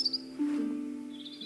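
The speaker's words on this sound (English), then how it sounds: "Oh look, even the robins are still here." Robins chirp in the Botany Manor video game, a short, clear high call with a brief tonal note beneath, heard alone without talk.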